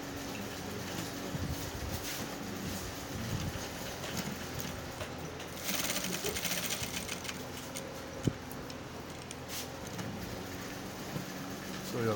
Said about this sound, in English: So you are going to sew all through the back facing.